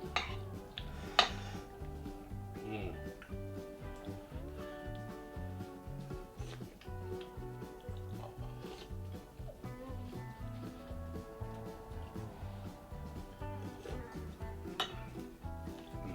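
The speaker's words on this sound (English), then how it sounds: "And if we mix the yogurt in, we can just cream it up a bit." A spoon stirring yogurt and dill into homemade borscht, with soft scraping and occasional clinks against the pot or bowl that run steadily throughout at a close, quiet level.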